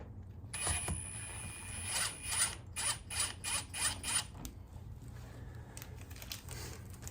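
Motorcycle clutch bolts being tightened down one after another, giving a run of quick, bright ratcheting bursts in a steady rhythm at close range, then fading into a quieter mechanical hum.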